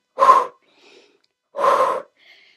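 Two sharp, forceful breaths taken during an abdominal HIIT exercise, each a short gasping huff about half a second long, close to the mic and separated by a brief pause, with faint softer breaths between them.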